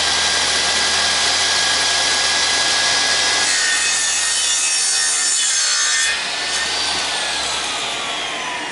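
A drop saw cuts through a piece of wood with a loud, close, continuous high whine and rasp, the blade biting steadily before the pitch dips and the motor winds down near the end.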